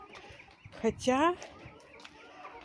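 Backyard hens cluck near a fallen quince they are pecking at, one loud rising call standing out over quieter fowl sounds, with a person speaking briefly nearby.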